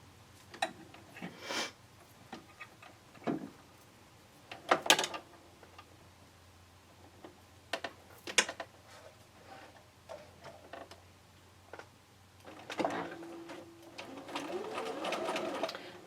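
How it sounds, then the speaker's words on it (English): Sewing machine stitching a quarter-inch seam around a quilt square, running in short mechanical bursts with clicks and pauses between, then a longer steady run near the end. "all I'm going to do is sew a 1/4-inch seam around the entire square"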